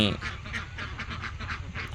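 Ducks on a small confined duck farm quack in a quick rhythmic series of short nasal calls, moderately close and fairly faint, over a low background hum.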